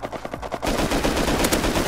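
Rapid gunfire in the survival video game Rust: a few spaced single shots, then a dense, loud burst of continuous automatic fire that fills the rest of the moment.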